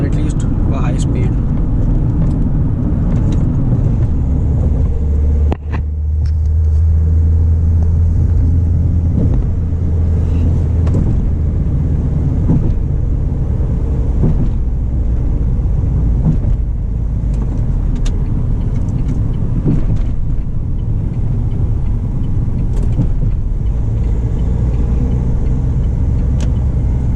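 A Mahindra XUV500 SUV cruises at about 120 km/h on the highway, with a loud, steady cabin rumble of engine, tyres and wind continuing throughout while a person talks over it.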